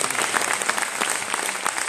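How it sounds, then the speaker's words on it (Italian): Crowd applause for the mayor of Prevalle at a local festival gathering, a fairly faint, steady patter of many hands clapping, somewhat distant and alone, with no speech over it. "Un applauso al sindaco di Prevalle ancora"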